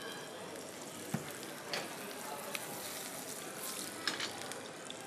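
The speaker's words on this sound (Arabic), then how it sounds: "يتقلاو يتقلاو بعقلهم" Merguez sausages fry in oil for a tajine, giving a soft, steady crackling sizzle with a few small pops, fairly quiet and close.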